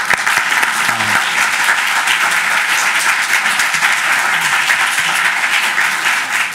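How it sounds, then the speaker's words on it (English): An audience at a law school lecture event applauds loudly and continuously, many hands clapping in a thick, steady patter with no talking. "Maybe a round of applause"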